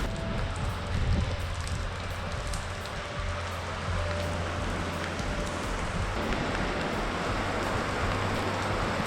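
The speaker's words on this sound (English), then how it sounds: "it's finally just kicked in and it started raining" Steady rain falls outdoors at a military museum, a dense, even hiss of drops on surfaces running unbroken throughout with a low rumble beneath and no talk.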